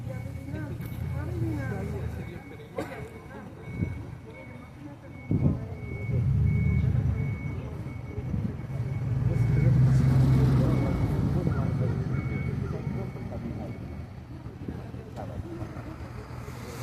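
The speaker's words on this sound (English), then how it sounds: "Here comes the truck." A food pantry delivery truck arrives on a Friday morning, its engine rumbling at moderate distance while a steady, evenly spaced reversing beep repeats throughout. Voices are heard briefly over the engine.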